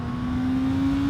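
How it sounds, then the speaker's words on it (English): A 2024 Honda CBR650R motorcycle accelerates at full throttle, a steady, loud engine drone with a rising whine, heard alone and close. "if I'm full throttle right here, the bike's barely getting going"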